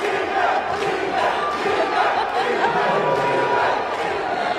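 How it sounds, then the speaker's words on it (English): A soccer tournament crowd at the Suncoast Casino and Entertainment venue chants and cheers in a dense, steady roar that fills the whole stretch without letup. "And the crowd cheering in the background, Senzo, Senzo, Senzo, Senzo"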